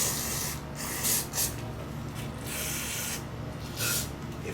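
Compressed air blasts in short hissing bursts to clean out bolts and their threaded holes during work on a Kawasaki Z H2 motorcycle, several spurts over a low background hiss.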